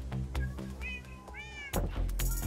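A cat meows in the Minecraft video game: a few bright, wavering meows rise over steady game background sounds, ending with a burst of louder noise.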